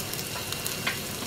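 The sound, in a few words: garlic and curry leaves frying in oil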